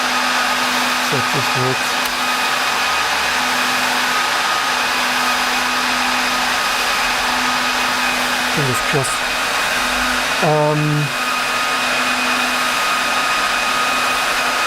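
Steady, loud broadband whir of IBM PowerPC64 server cooling fans running continuously, with a constant hum and a few brief clicks and short tones layered on top.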